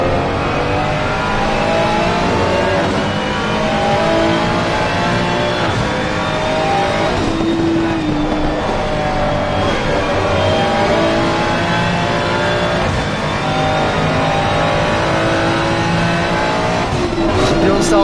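Ferrari GT3 race car engines roar continuously around Laguna Seca in a racing video game, revving and shifting with occasional tire squeal, under steady commentary talk.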